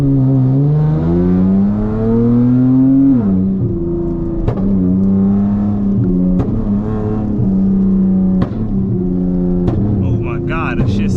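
Catless, flame-tuned V6 Dodge Charger revving in the rain, a loud, close engine drone that swells and drops several times, with sharp crackles and a voice over it.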